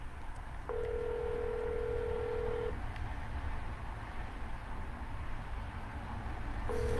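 A telephone line sounds during a cold call. One clear tone holds for about two seconds, a quiet pause follows, and the tone starts again at the end, all over a faint background hum.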